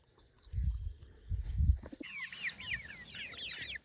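Several hoarse, chirpy calls from Cornish Cross meat chickens in a rapid cluster near the end, preceded by low thumps and rustling; close and moderately loud, no talking.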